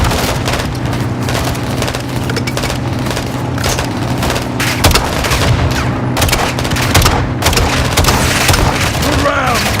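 Battle sounds from Call of Duty Modern Warfare II: launcher blasts and explosions mix with rattling gunfire in loud, dense bursts, with voices shouting amid the combat.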